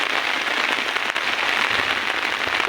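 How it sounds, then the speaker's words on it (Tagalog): Heavy rain pours down outdoors in a dense, continuous hiss of drops drumming on surfaces, loud and steady with no voices. "Lakas ng ulan no."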